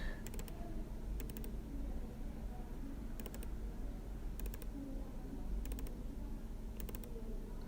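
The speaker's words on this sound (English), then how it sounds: "So much clicking." A computer mouse clicks sharply in small double clicks, spaced irregularly every second or two, faint over a steady low room hum while someone works in Inkscape.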